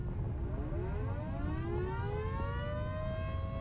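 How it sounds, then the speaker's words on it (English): An alarm siren in the video game Volcanoids wails steadily, its rising, air-raid-style tone sweeping upward and holding loud and continuous throughout, with no voices over it. "There goes the alarm."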